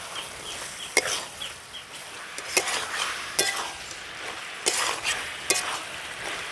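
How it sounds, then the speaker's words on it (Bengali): Chhat ghugni with ground spices is sautéed in a pan, with a steady sizzle and repeated sharp clanks of a spoon scraping the metal at fairly regular intervals, loud and close. "দিয়ে খুব ভালোভাবে এবার কষিয়ে নেবো সব কিছু।"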